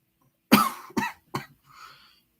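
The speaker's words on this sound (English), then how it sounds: "I'm coughing up." Three dry coughs from a man during a live stream, close to the microphone, each sharper than the last, followed by a faint throat sound.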